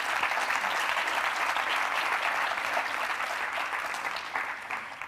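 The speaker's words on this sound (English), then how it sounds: "Portugal deserves a big applause." Large audience at a social innovation pitching competition in Lisbon applauding, a dense, steady wash of clapping that tapers slightly toward the end.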